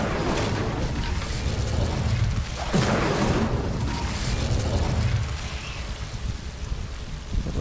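Incendio fire spell cast in Hogwarts Legacy, a burst of crackling, rumbling magical fire with a sharp boom partway through, layered over a steady mechanical game ambience.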